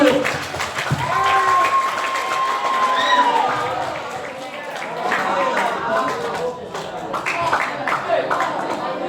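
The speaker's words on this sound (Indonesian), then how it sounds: "Tepuk tangan dulu." Students clapping together in a school classroom session, a lively burst of applause mixed with chatter and excited voices that swells and dips throughout.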